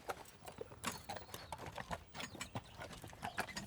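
Heavy draft horses walk along a route from the Ardennes toward the sea, their hooves clip-clopping in a steady, irregular rhythm close by, with an occasional faint snort and low outdoor background.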